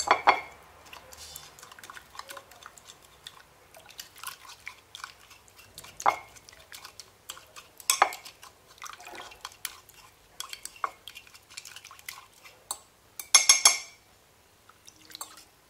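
Water poured over meat in a pan while cooking a Moroccan oven-roasted meat dish, heard as scattered splashes, drips and small metallic clinks, close and fairly quiet, with a brief louder burst near the end.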